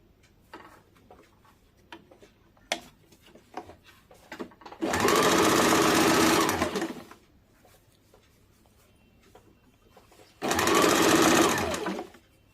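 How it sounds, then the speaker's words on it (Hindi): A sewing machine stitches a blouse dart in two loud, steady runs of rapid whirring, the first about two seconds long and the second shorter. Quiet clicks and handling noises fall before and between the runs. "डेढ़ इंच वाला डार्ट ऊपर की तरफ रख के सिलना होगा।"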